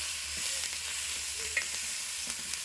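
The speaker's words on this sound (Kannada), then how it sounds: "ಎಣ್ಣೆ ಹಚ್ಚಿ ಹುರ್ಲಿಗತ್ತೀನಿ ರೀ ಅವ ಟೊಮಾಟೊ ಹುರ್ಕೊಂಡು" Tomatoes fry in oil on a flat pan for a tomato palya, a soft constant sizzle with occasional light stirring clicks, close and fairly quiet with no speech.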